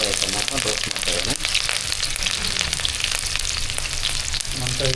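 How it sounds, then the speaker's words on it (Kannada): Garlic, ginger and chilli roast in hot oil in a pan for mushroom Manchurian. A loud, dense, continuous sizzle with crackling fills the whole stretch close up. "ಪ್ಯಾನ್ ಇಕ್ಕಿ ಎಣ್ಣೆ ಹಾಕಿ ಈಗ ಗಾರ್ಲಿಕ್ಕು, ಮೆಣಸಿನಕಾಯಿ, ಗಾರ್ಲಿಕ್, ಜಿಂಜರ್, ಚಿಲ್ಲಿ ಐಟಮ್ ಹಾಕೊಂಡು ರೋಸ್ಟ್ ಮಾಡ್ತಾಯಿದ್ದಾನೆ"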